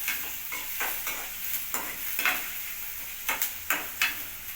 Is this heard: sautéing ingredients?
yes